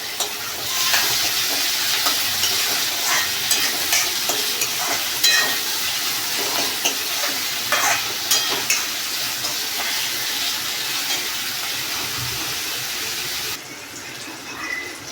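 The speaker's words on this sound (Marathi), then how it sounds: "आता याच्यामध्ये टमाटर ॲड करून घेऊया आणि थोडा अजून शिजवून घेऊया." Tomatoes sizzling in a pan over cooked onion for a homemade chicken curry, steady frying hiss with scraping stir strokes and occasional clicks, continuous and close before dropping quieter at the end.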